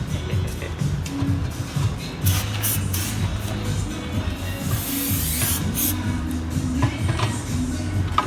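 A steady hiss of aerosol cleaner spraying into the throttle body of a G35 Coupe runs continuously, close and fairly loud, with brief pauses and a low rumble underneath.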